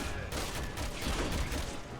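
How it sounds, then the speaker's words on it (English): A grenade blast in Resident Evil 6 amid a dense, rumbling barrage of gunfire and booms, loud and continuous for a couple of seconds with no speech over it. "That's a grenade."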